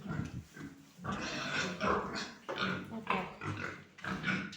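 Pigs grunt and snuffle close by in a continuous, rough series of low oinks, with no talking, in a freshly cleaned pigsty.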